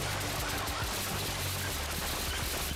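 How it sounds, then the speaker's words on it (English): A rapid, continuous barrage of police gunfire crackles densely and without pause, sounding muffled and somewhat distant. "Caught on camera, barrage of bullets."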